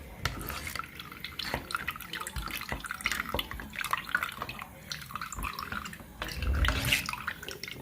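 Water runs and drips inside a flooded house, a continuous splashing faucet-like flow at moderate level with scattered drips, with a voice speaking over it.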